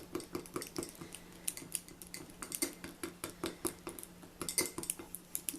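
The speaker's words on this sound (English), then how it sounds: "I'm just whisking it up until I make sure that that heavy honey is not still separate and weighed down to the bottom of the jar" A whisk clinks and scrapes rhythmically against the inside of a jar while mixing coconut oil and heavy honey, a steady run of close, light metallic taps and scrapes with no talking.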